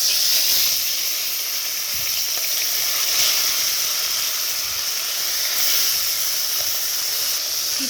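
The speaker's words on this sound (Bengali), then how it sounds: "মাছগুলো দেওয়া হয়ে গেছে, মাছগুলো ভেজে নেব।" Fish sizzles steadily in hot oil in a wok, cooked ahead of a pointed gourd and potato fish curry; a continuous, fairly loud frying hiss fills the whole stretch with no voices.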